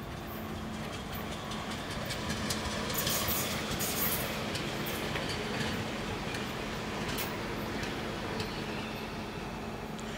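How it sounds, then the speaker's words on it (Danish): Another Copenhagen S-train runs through Østerport station with a steady rolling rumble and faint clatter and squeal, moderately close, with no voices. "Og så har vi et andet S-tog her."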